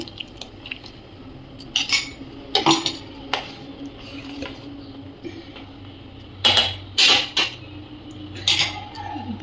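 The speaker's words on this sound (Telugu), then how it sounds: "ఇదిగోండి ఇలా మిక్స్ చేసుకొని కలుపుదాము" A spoon stirs gram dal paste into egg pulusu, an Andhra-style egg curry, in a metal pot, making sporadic sharp clinks and scrapes against the vessel over a quiet background.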